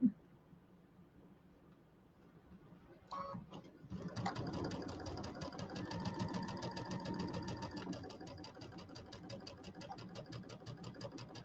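A sewing machine pieces a table topper, its needle running in a steady mechanical chatter from about four seconds on after a couple of brief clicks and a quiet start.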